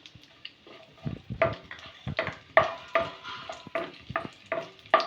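Raisins fry in hot oil in a pan for carrot halwa, with a soft sizzle broken by a string of sharp, rhythmic spoon taps and stirring clicks, close and clear.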